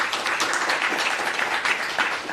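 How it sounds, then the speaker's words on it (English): Steady audience applause following startup pitches at a pitch event, a continuous even wash of clapping throughout. "Round of applause."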